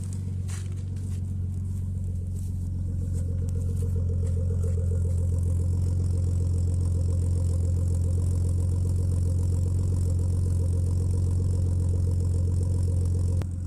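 A Nissan Skyline R34 idles cold, heard from outside the car as a steady low engine rumble with a faint rhythmic burble, holding level throughout with a few light scuffs near the start.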